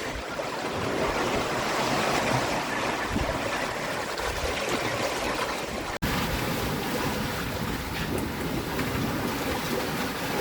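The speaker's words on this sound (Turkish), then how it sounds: "Altı da temizlenince rahat rahat kayıyor suda." Sailboat with a clean hull slipping through Pacific Ocean water at about seven knots, with a continuous wash of water and wind noise at a moderate level, briefly cut near the middle, and no talk.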